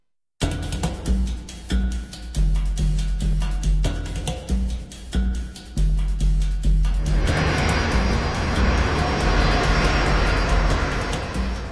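British Airways Flight 38, a Boeing 777 airliner flying from Beijing to London, drones loudly overhead with a deep engine rumble, first broken by rhythmic pulses and then swelling into a continuous roaring wash of jet noise.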